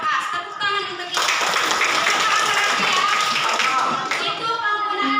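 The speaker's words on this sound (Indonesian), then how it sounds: "Give applause for us. Tepuk tangan untuk kita." Group clapping in a classroom-style setting, a dense burst of hands that swells after the first second and holds steady and loud to the end, with voices mixed in at the start.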